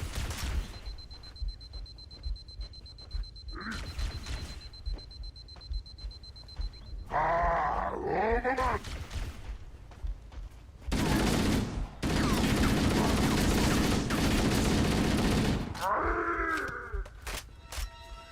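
Assault rifle bursts ring out in the video game Halo on heroic difficulty, coming in repeated loud volleys separated by short pauses and mixed with warbling alien game sound effects.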